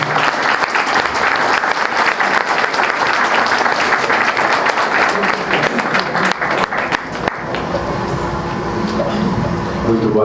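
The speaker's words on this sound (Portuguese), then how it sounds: "Mais uma vez eu peço uma salva de palmas para você." Loud, dense applause from a large audience for a speaker at an evening spiritist lecture, sustained for several seconds before thinning out near the end.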